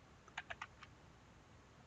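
Fingers tap a computer keyboard in a short burst of four or five quick clicks, then pause before one more keystroke, faint and close in a quiet room.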